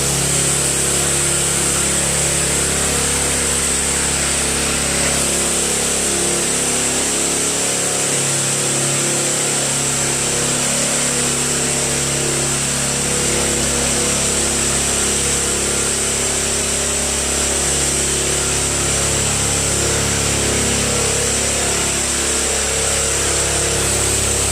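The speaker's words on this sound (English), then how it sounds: "That engine is loud." Loud machinery engine clearing flood debris, echoing in a tunnel, a steady, unbroken roar with a strong low drone and high whine that runs nonstop throughout.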